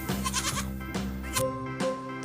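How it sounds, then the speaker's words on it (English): A goat bleats in a phonics alphabet song, with several loud, quavering bleats in quick succession against a musical backing. "Goat."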